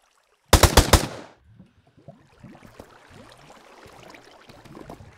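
Rapid burst of about five loud gunshots in modded Minecraft, fired in quick succession, followed by quieter scattered game sounds and clicks.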